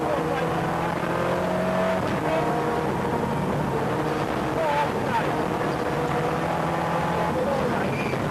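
A Subaru Group N rally car is driven flat out along a stage, its engine a steady, unbroken roar, while a voice talks over it.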